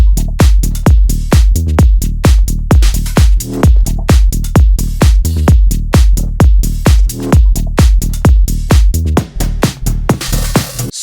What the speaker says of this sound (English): And now the whole drum group sounds like this.